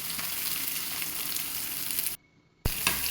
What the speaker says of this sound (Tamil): இதெல்லாம் போட்டு நல்லா வதப்பி எடுத்துக்கலாங்க.